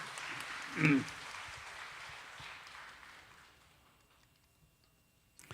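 A church congregation applauding in a Korean church service, a broad wash of clapping that swells briefly near the start, then thins and fades to near silence after a few seconds.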